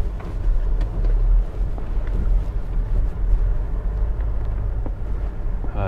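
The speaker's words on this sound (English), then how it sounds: "Switch the engine off." Vehicle engine idling on a wild dog and pig hunting trip, a steady low rumble with wind buffeting the microphone, continuous and fairly close.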